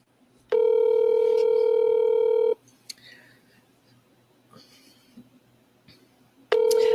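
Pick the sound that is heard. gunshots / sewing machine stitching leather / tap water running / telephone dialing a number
telephone dialing a number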